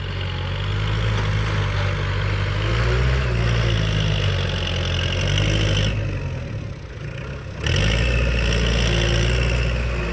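A Kubota L5018 tractor tills a muddy rice paddy with its engine running steadily in a loud, close drone that labors and dips briefly near the end before recovering.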